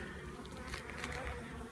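Honeybees buzzing steadily around a hive during a winter hive check, a faint, continuous hum of many wings with individual bees passing close now and then, no talking.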